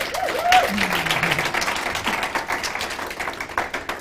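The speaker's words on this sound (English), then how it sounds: "Can we give them a round of applause?" Audience applause for a panel at a youth summit on future economies, a steady wash of clapping from a crowd that carries on for several seconds, with a voice briefly audible at the start.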